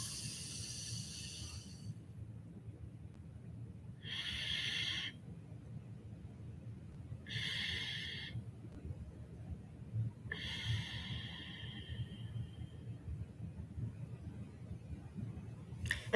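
Rasping breath-work exhalations, four distinct hissy bursts spaced a few seconds apart, fairly close and moderate in volume, with no talking over them.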